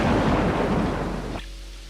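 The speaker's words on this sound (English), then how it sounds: "Thunder rolled." Thunder rolls in one deep, loud, sustained rumble with crackling texture, cutting off sharply to a quieter low hum.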